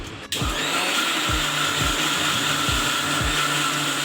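Mixer grinder running loud and steady after a brief start, grinding garam masala and sambar powder for a home cooking recipe, with a continuous whirring motor drone and a faint regular thump repeating under it.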